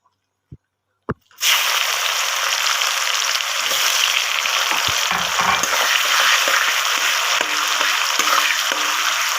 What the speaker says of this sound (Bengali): এবার আমি তেলের মধ্যে পেঁয়াজ কুচিগুলো দিয়ে দেবো।